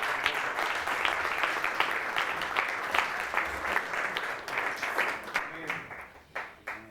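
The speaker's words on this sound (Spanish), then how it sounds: "Dale un aplauso al Señor por eso." A church congregation at a men's convention applauds, a lively, sustained round of clapping that runs several seconds and then breaks into scattered final claps.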